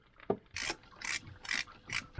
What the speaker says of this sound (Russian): Откручиваем винты крепления радиатора